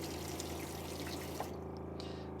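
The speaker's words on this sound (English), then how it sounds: "you'll get a pressurized flow of water, and that water is red hot" Pressurized hot water gushes steadily from a kitchen mixer tap in a holiday home, a continuous loud splashing flow that eases off toward the end, with no voices.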